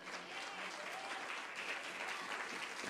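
A church congregation applauds together in a dense, steady wash of clapping, fairly distant and quiet, sustained for a few seconds.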